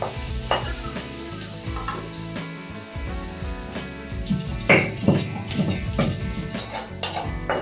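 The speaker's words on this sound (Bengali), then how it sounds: "হালকা লাল করে নেব নাড়িয়ে চাড়িয়ে" Oil sizzles and crackles in a pan while ingredients for a Bengali rui fish curry are fried and stirred, with close clattering stir strokes over a constant frying hiss that grows busier toward the end.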